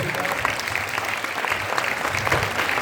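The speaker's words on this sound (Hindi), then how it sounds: "एक बार जोरदार तालियों" Audience applause after a children's street play at a Jain spiritual camp in Songadh, a short, steady burst of clapping from a gathered crowd.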